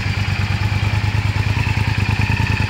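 Honda VTR motorcycle engine running steadily at a loud, close idle with a rhythmic throbbing pulse in the paddock of the Bol d'Or race at Le Castellet circuit, with no talk over it.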